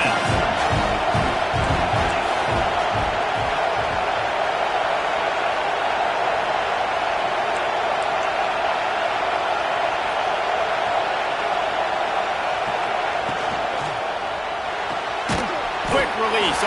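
A stadium crowd at a Nebraska versus FSU college football game keeps up a loud, constant roar for the whole stretch, with a few sharp thuds near the start and end and a commentator talking over it.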